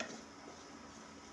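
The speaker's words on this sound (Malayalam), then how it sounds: "ഇളക്കാം." Kashmiri chilli powder and spices stirred in a hot pan for prawn roast, a quiet continuous sizzle with soft scraping movement, close and brief, without speech.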